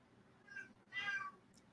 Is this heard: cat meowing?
yes